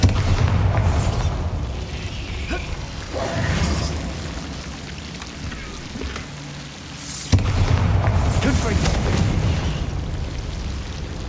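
Bombarda and Confringo spell explosions in Hogwarts Legacy: a few heavy, rumbling blasts that swell and fade over a dense game soundscape, with one sharp hit late on.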